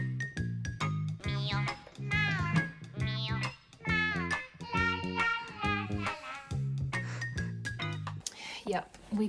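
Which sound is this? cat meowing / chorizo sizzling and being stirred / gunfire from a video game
cat meowing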